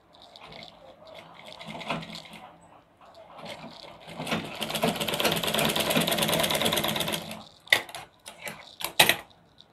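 Stitching a choli cut blouse, a sewing machine hums in a fast, steady run for about three seconds, preceded by lighter handling and followed by a few sharp clicks and short bursts, close and fairly quiet.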